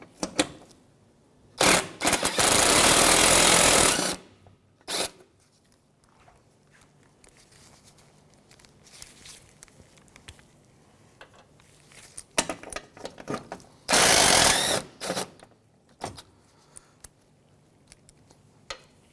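10mm bumper bolts come off a 2007-2013 Mitsubishi Outlander during a headlight replacement, with two loud bursts of power-tool whirring separated by quieter clicks, taps and handling noises nearby.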